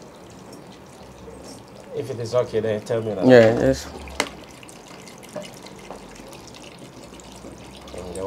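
Water pours and splashes into a pot for boiling yam, a burst of liquid lasting a couple of seconds between stretches of nearby talking.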